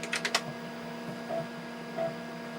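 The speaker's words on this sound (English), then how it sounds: "you might be able to hear the drive is now seeking quicker" A Tandy computer's floppy disk drive seeks at a fast 3-millisecond step rate: a quick cluster of sharp mechanical clicks, then a couple of faint soft blips over a steady low electrical hum. Quiet and close.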